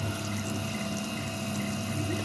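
MR-1 CNC mill step-drilling a steel shredder plate, a steady quiet hum with faint coolant-like hiss and whine, continuous and even, no voices.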